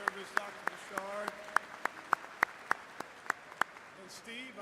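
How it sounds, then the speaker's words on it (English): At a university commencement, one or a few people clap in a slow, regular rhythm, about a dozen distinct claps fairly close, while a voice talks underneath. "Let's give Dr. Pichard a big round of applause"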